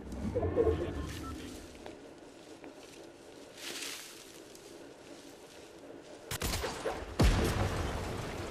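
Gunfire in the Fortnite video game, scattered shots and bursts at moderate distance, growing into louder, sharper cracks near the end amid ambient game noise.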